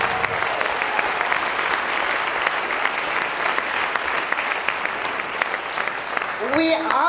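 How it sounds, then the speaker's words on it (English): An audience at the end of an Ignite Denver event applauds loudly and continuously, with a voice starting to speak over the final moments. "let's applaud that."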